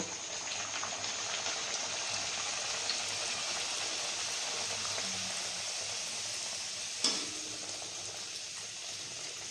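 Luchi, puffed flatbread, deep-frying one at a time in hot oil, giving a continuous soft bubbling hiss at low volume, with a single sharper clink partway through.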